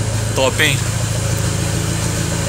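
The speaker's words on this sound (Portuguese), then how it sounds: "Tá aí a marchinha lenta" A car engine idles at low speed with a steady, even, low-pitched hum, close to the microphone. Someone briefly speaks Portuguese over it.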